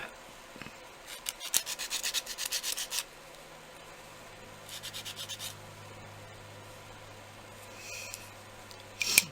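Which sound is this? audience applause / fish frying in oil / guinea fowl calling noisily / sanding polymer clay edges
sanding polymer clay edges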